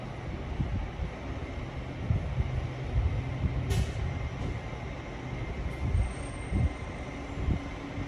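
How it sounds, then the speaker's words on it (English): An LNER Azuma train pulls away from a platform at Doncaster station on its way to London King's Cross. Its low rumble holds steady throughout, with brief air-brake hisses and faint squeals over it, and no one speaks. "And our LNER Azuma to London King's Cross is now ready to depart."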